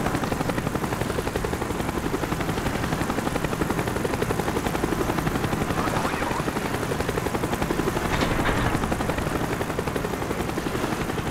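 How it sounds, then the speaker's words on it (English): Helicopter in the Call of Duty Black Ops video game: a continuous, pulsing rotor drone holds steady throughout, with faint distant gunfire-like pops underneath. "Avoid the helicopter spotlight."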